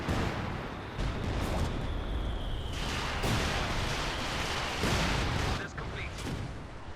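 Incendiary rockets in Company of Heroes 2 fire and burst in a rapid, rumbling barrage of repeated blasts and crackling impacts under a continuous wash of battlefield noise.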